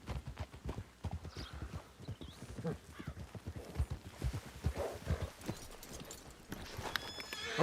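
Horse hooves clip-clopping in a western ranch roleplay video game, steady close hoofbeats with a whinny partway through and a louder burst near the end.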